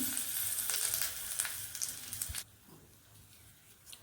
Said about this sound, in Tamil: நான் அடுப்பை ஆஃப் பண்ணிட்டேன் மிளகா வந்து போட்டிருக்கேன்